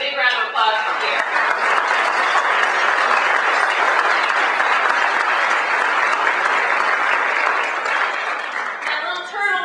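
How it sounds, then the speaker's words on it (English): Audience applause at a Navy League event with a dance band in Santa Barbara, a dense, steady wave of clapping that fills the room for several seconds before tapering off at the end. "Let's all give a big round of applause for Pierre."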